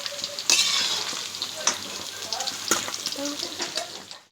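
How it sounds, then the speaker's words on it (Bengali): Paneer pieces fry in a wok (kadai) with a moderate continuous sizzle, broken by a few sharp clinks of utensils against the pan. "এবার কড়াই দিয়ে পনিরগুলোকে আমি ভেজে তুলে রাখবো।"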